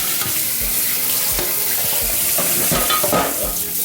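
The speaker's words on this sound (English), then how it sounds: "Wash your pot as well, remove all that fat from there." A pot being washed under running water to remove fat, with a constant splashing rush of water and intermittent knocks and scrapes of the pot, close and loud throughout.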